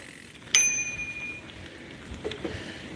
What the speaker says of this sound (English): I think you can tell from here the bell.